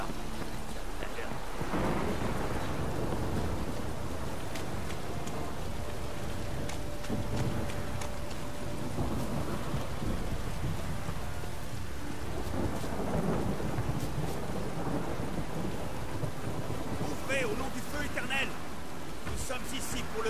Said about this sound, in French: Encore de la pluie.